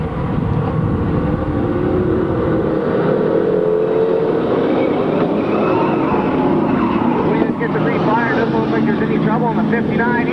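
Race cars on the final lap of a 1998 race roar loudly and continuously, engines droning and shifting in pitch as they pass, with a commentator talking over the din.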